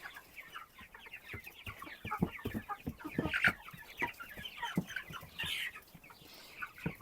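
A rooster, in a backyard flock of broiler chickens, clucks repeatedly nearby in short, irregular bursts, with a few sharper calls mixed among the steady clucking.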